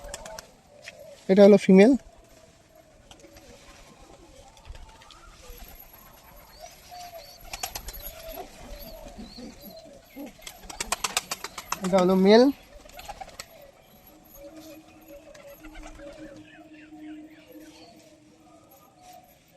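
A pair of Kamak high flyer pigeons coo in two short, throaty bursts, close by, amid someone talking and faint background noise.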